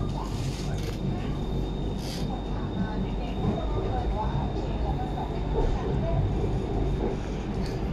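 Steady, loud rumble and hiss of a Bangkok metro train in a station, a continuous mechanical drone with faint squeals and a brief tone, while people talk nearby.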